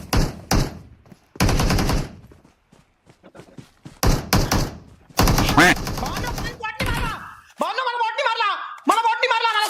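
Gunfire in the video game BGMI, with rapid bursts of automatic shots and single loud cracks in several clusters, alternating with a player talking excitedly between and over the shots.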